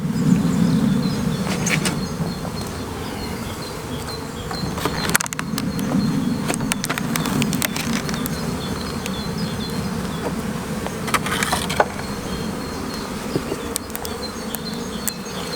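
A honey bee colony at the hive during an inspection of a brood box and super, giving a dense, continuous close buzz with individual bees droning past and some handling clatter.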